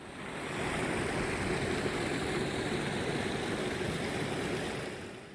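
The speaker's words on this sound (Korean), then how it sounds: "정류소에서 조금 내려가면 곧 시원한 계곡을 만나게 되는데요. 이것은 용추 계곡입니다." A full mountain stream rushes steadily through the lower reaches of Yongchu Valley in Gyeonggi-do, its clean, plentiful water giving a close, even, broadband wash with no speech.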